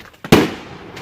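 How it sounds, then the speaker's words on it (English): One firework bursts with a loud, sharp bang at close range, followed by a quickly fading crackling tail. "You guys are gonna see the fireworks."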